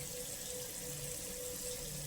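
Tap water runs steadily into a sink, a constant hissing splash with no breaks, heard close and alone throughout.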